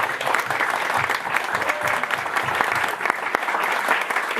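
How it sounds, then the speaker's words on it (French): An audience applauds candidates at a French public meeting ahead of the 2019 European elections, steady dense clapping from a crowd filling the room, loud and continuous throughout. "On peut les applaudir"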